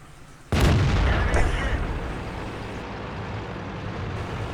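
A loud tank cannon shot in World of Tanks, one sudden heavy boom followed by a rumbling decay and steady engine drone.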